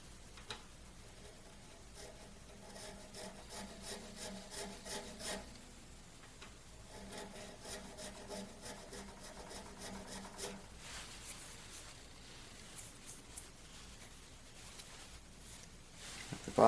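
A file rasping in a nut slot of an acoustic guitar, a steady rapid scraping of quiet back-and-forth strokes that pauses briefly midway and then resumes, close-up with no talk.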